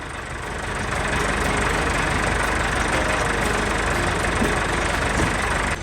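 A farm tractor fitted with a front end loader sits with its engine running, a steady loud diesel drone and rumble that holds constant throughout with no talking.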